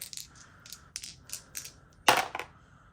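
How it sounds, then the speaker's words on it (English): Dice rattle and clatter on a hard surface in short bursts, several small clicks followed by one louder tumbling roll near the end, close and quiet otherwise. "All right, dice roll for next week."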